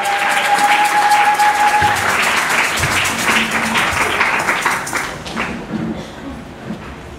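A church congregation applauds at a French-language service, making a dense wash of clapping with a few thumps. The clapping starts loud, then thins and fades toward the end as voices mix in.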